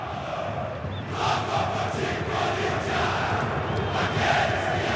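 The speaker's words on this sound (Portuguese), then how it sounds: "Está ouvindo lá o Louco por Ti Corinthians sendo entoado no estádio Beira-Rio em Porto Alegre" Corinthians supporters chant "Louco por Ti Corinthians" in a packed Beira-Rio stadium in Porto Alegre during a 2009 Copa do Brasil final, a dense, continuous roar of massed voices rising and swelling in waves.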